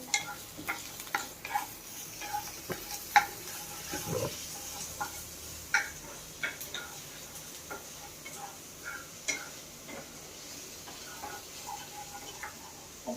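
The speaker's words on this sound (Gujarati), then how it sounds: "આમ આપણે લસણ એડ કરીશું 1 ચમચી. તેલ આપણું ગરમ થઈ ગયું છે." A spoonful of garlic crackles and sizzles in hot oil in a pan, with steady light pops and ticks running throughout, close by and without any talk.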